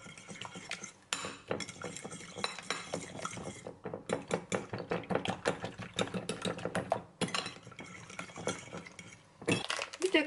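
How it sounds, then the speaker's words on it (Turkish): A fork mixes chopped sucuk and peppers in a dish, making rapid irregular scraping and clinking of metal on the dish, with brief pauses between bursts of stirring and no voices. "Bunların hepsini karıştıracağım. Şöyle çatalla."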